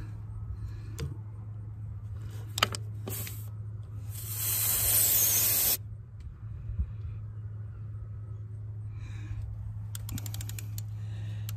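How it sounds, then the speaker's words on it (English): Compressed air hisses out of an FMTV CTIS wheel valve in one close, steady burst of about two seconds, over a constant low hum with scattered clicks before and after. "now let's release this back pressure real quick"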